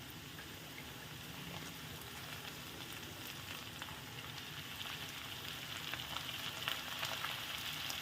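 Thinly sliced long brinjal pieces fry in oil in a pan, a soft, even, continuous sizzle heard close up with faint crackles and no voices.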